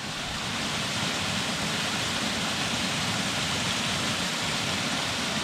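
Steady rushing roar of a small waterfall beside a hiking trail bridge, broadband and continuous, close and moderately loud throughout with no voices.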